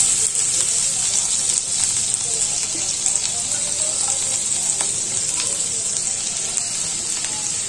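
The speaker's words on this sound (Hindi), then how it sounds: "अभी इसे थोड़ा हल्का सा सोटे करना है, हमें ज्यादा फ्राई नहीं करना है" Finely chopped garlic and ginger sauté in hot oil, giving an even, bright, continuous sizzle with light stirring clicks and scrapes running underneath.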